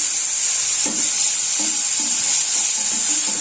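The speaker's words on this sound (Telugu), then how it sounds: "ఈ ఆనియన్స్ గోల్డెన్ బ్రౌన్ కలర్ రావాలి, అంతవరకు వేయించుకున్నాము. ఇప్పుడు దీంట్లో కొద్దిగా కరివేపాకు వేస్తున్నాం." Curry leaves sizzle in hot oil with golden-brown fried onions in a pan for egg podi curry, a steady hiss with soft stirring scrapes and small crackles throughout.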